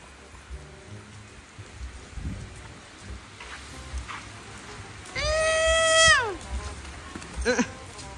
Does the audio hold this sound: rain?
yes